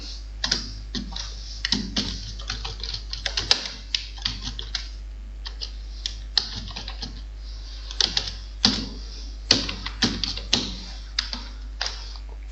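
Text being typed into MS Word on a computer keyboard, with irregular bursts of crisp key clicks and short pauses between them against a steady low hum.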